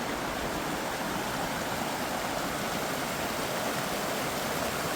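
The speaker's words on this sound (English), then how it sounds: "This is where the water comes down that goes to town." Steady, full-bodied rush of water pouring down from a headgate into a town irrigation channel, a continuous broadband roar with no pauses or voices.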